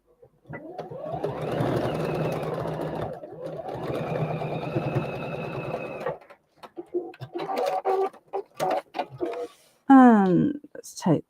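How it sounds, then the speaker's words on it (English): A sewing machine runs in two sustained bursts of rapid stitching while foundation piecing fabric, then stops and leaves short mechanical clicks, with a pigeon cooing nearby toward the end. "sew along there."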